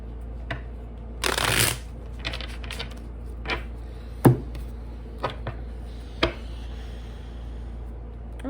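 Tarot cards being handled and shuffled by hand, giving a brief riffling burst followed by scattered soft taps and slaps of cards, close and fairly quiet with no talking.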